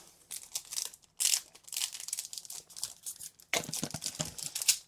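A Japanese trading card booster pack wrapper is torn open by hand without scissors, in bursts of close crinkling and ripping plastic with short pauses between pulls.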